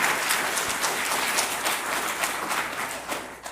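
An audience at a Korean church gathering applauds steadily, a dense, even patter of many hands that holds for several seconds and then begins to thin out.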